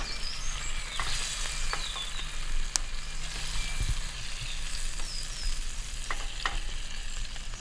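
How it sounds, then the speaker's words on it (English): Steady crackling sizzle of meat frying on a hot grill, close and continuous, with scattered sharper pops and no voices. "Oh, we've got some good sizzling going on"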